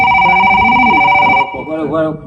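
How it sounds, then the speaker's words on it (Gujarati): A telephone rings loudly and close with a steady electronic tone for about a second and a half, then cuts off as a voice begins speaking. "ફોન કોનો આવ્યો"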